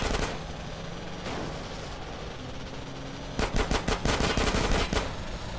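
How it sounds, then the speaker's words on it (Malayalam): Automatic gunfire rattles in GTA San Andreas Definitive Edition: a few early shots, then a dense, loud volley of rapid bursts in the second half. No voices. "എടാ വെടിവെക്കലടാ"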